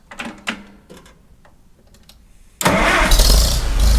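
A Farmall Super M tractor engine cranks briefly with a few clanks, then fires and catches, settling into a loud, steady running rumble up close.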